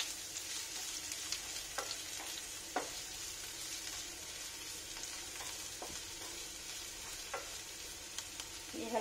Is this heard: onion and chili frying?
yes